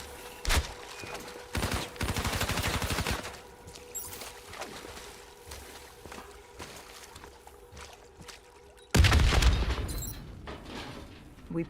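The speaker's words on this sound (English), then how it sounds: "The explosion blocked our path." A Call of Duty battle erupts with bursts of rapid gunfire and heavy blasts, loud volleys separated by quieter rumbling stretches, then a big explosive crash about two-thirds through that decays into debris noise.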